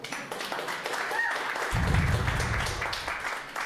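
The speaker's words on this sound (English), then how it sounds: "Surprisingly fewer people clapped this time" A live storytelling-night audience breaks into applause, a crowd of hands clapping steadily and fairly loudly for about two seconds, with a murmur of room noise before and after.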